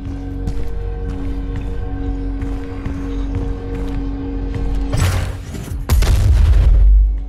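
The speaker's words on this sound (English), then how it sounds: "You'll have to manually toggle the launcher to fire either ice bombs or frag grenades." Explosions from Doom Eternal's grenade launcher firing ice bombs and frag grenades: two heavy booms near the end over constant in-game action noise and a humming drone, loud and close.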